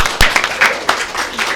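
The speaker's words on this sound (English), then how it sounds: "We can give each other applause." Short, scattered hand clapping from a small group at a League of Women Voters candidate forum, a few uneven claps over about a second and a half.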